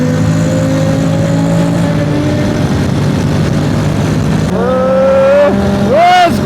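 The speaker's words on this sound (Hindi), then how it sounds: "एक्सप्रेसवे पे जाते हैं तो इसको और खोलते हैं और भगाते हैं" Honda X-ADV 750 adventure scooter accelerating hard on an expressway, a loud, steady engine drone with rising pitch through the gears, ending in sharp revving sweeps up.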